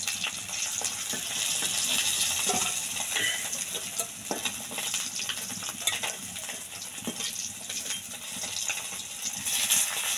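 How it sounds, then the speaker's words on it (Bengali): Rohu fish pieces frying in oil in a kadai, a steady close crackling sizzle throughout with occasional clinks and scrapes of a utensil, no talking. "মাছ কটা ভেজে তুলে নেবো।"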